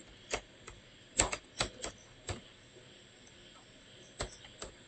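Keys struck on a computer keyboard in a series of sharp, separate clicks with uneven pauses, close and fairly quiet in a still room.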